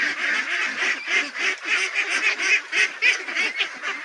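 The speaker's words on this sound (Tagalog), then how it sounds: "tapos ang ating bigyan ng pagkain guys sa ating alayang itik" A flock of domestic ducks being fed, their honking quacks overlapping in a steady, loud chorus that pulses with many calls each second, close by and with no talking.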